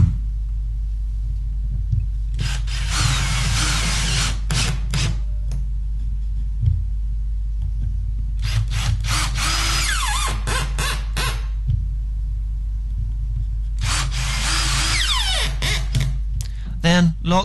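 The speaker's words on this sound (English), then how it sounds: "Then screw them together with a 4x30mm long wood screw." A power drill drives 4x30mm wood screws through paired wooden pieces in three separate whirring bursts of a few seconds each, with quiet pauses between them over a low background hum.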